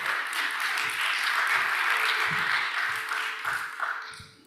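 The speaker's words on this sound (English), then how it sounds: "Let's give her a big round of applause" An audience at a research conference claps for a speaker, broad even applause holding steady, then thinning out toward the end.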